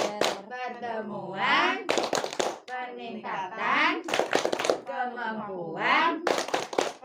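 A group of women at a PKH family-programme meeting in Jatijajar village chant a rhythmic Tepuk P2K2 phrase together, punctuated by sharp bursts of unison clapping between the sung lines, all close and fairly loud.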